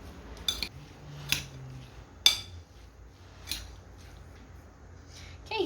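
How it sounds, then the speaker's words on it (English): A gooseberry salsa is stirred in a bowl, faint and close, with a few sharp clinks of a utensil against the dish spaced over several seconds. "once you've added everything, you can just give it a nice good stir"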